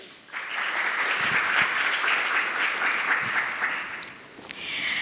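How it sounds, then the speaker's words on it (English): Sustained applause from a conference audience greets a speaker walking on stage at a customer-experience panel, dense steady clapping that holds for about four seconds before thinning out near the end. "Please welcome him on stage with a huge round of applause."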